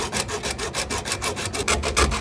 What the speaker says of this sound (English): that's where I'm gonna cut it